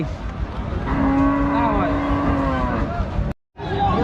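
A cow lets out a long, drawn-out moo over a busy, noisy background of murmuring voices at a border-area cattle market in Chapai, then the sound cuts out briefly.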